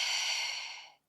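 A single soft exhaled breath during a stretching workout, close and airy, trailing off after about a second.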